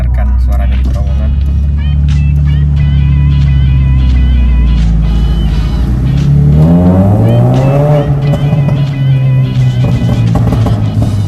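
A Mazda 2 Skyactiv with a 1500cc engine and remapped tune driving through a tunnel in fourth gear, its engine drone rising and falling with throttle and echoing loudly throughout, while someone talks over it.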